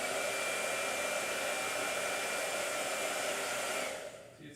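A blow dryer drying paint on a hot press sketchbook page roars steadily and loudly, a broad continuous hiss at close range, then switches off and winds down near the end.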